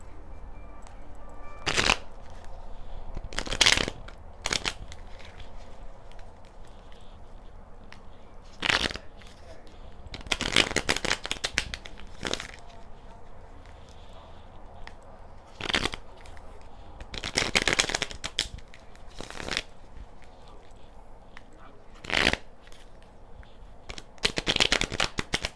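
A deck of tarot cards being shuffled in repeated quick riffling bursts, each a sharp crackling flutter, spaced irregularly across a quiet room with faint background hiss between them.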